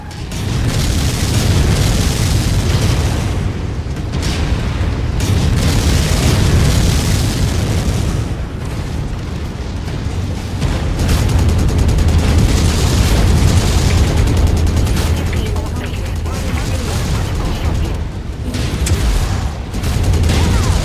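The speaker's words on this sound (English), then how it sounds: "Incoming missile." Heavy missile impacts and explosions in the MechWarrior 5: Mercenaries mech combat game, set in 3028: a sustained, dense barrage of loud booms and blasts rumbling almost without pause, with no voices.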